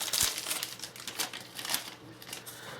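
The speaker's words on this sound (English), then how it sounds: "tear out of the plastic" Plastic packaging torn and crinkled off a Samsung BD-J5100 Blu-ray player remote, a few quick close crackling rips followed by quieter rustling.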